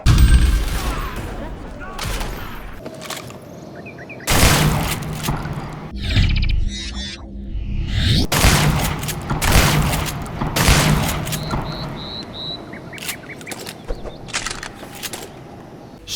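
Shotguns firing in Shadow Warrior 2, a first-person shooter: several loud, booming blasts spaced a few seconds apart, each followed by mechanical reload and game effect sounds, with talking over parts of it.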